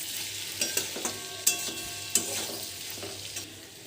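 Softened pointed gourd and other vegetables fry dry without water over a high gas flame, with a constant sizzle broken by several sharp spatula scrapes and taps as they are stirred.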